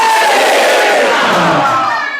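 A large devotional crowd at a Vyas Puja celebration shouts "Hare Krishna" together in one loud, sustained, rising cheer that fades slightly at the end.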